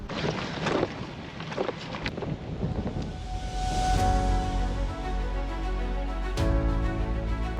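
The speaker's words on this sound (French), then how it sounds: "Il y a un vent de dingue aujourd'hui." Strong wind buffets the microphone on the Andalusian coast during a bike ride. The rumble is loud and gusty and swells past the midpoint, with low roaring and sharp gust hits.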